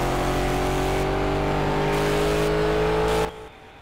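A race car engine in Project CARS howls at high revs through a tunnel, a loud sustained drone with rising pitch that drops off abruptly at the end.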